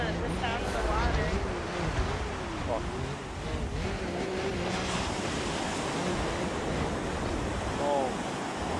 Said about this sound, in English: He likes the sound of the water